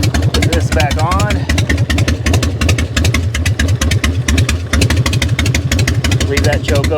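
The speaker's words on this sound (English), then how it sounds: "Boy, she's loud. Yep. That's just straight pipes, man. There ain't no mufflers on that bad boy" A Plymouth Roadrunner engine with straight pipes and no mufflers idles loudly and close up with a choppy, pulsing rumble, while people talk over it.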